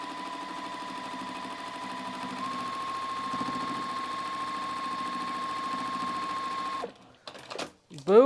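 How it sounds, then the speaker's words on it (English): A sewing machine running a locking stitch on a quilt block, a steady fast whirring drone with a mechanical tone that lasts several seconds before stopping, followed by a brief clatter and a short burst of talk. "Let me put my actual locking stitch in."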